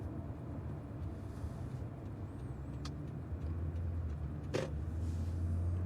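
A car in a Halloween tabletop role-playing game drives past with a low, steady engine rumble. Faint clicks sit over it, and the engine noise swells slightly toward the end.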